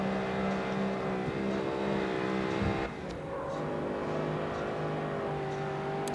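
A car engine in the racing video game CarX Street drones steadily at high revs, with a brief drop in pitch partway through like a gear change, loud and continuous with no talk.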